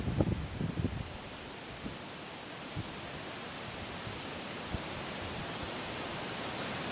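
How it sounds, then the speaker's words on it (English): Strong, gusty wind roars as a steady broadband rush behind a passing front in North Dakota, with a few brief thumps and buffets near the start, then continuous unbroken noise to the end. "It is so freaking windy right now."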